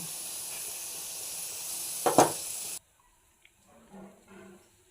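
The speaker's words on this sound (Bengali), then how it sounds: "আমার শাগের চচ্চড়ি নামানোর আগে আমি একটু তেল দিয়ে দেব" Oil added to red amaranth greens curry as it finishes cooking, a steady hiss with a short louder crackle before cutting off, then faint quiet speech-like sound.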